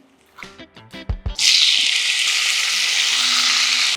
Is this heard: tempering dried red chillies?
yes